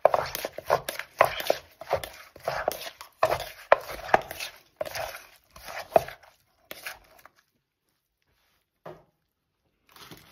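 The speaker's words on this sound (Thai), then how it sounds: "โขกเลยค่ะโขกเลย" Cucumber salad being pounded in a mortar with a pestle, with steady rhythmic thuds for several seconds, then a pause and a few scattered knocks.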